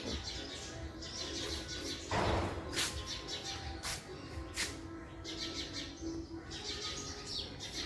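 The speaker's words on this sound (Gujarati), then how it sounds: "અહીંયા પણ ચકી પાણી પીવા આવી" Sparrows chirp in quick, bright bursts, some close and some farther off, coming to drink water, with a brief flutter of wings partway through.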